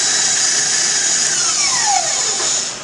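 An electric hand mixer whirs steadily through cinnamon roll icing with lemon juice, a loud, close, high-pitched motor whine whose pitch slides and wavers as the beaters work, then tapers off near the end.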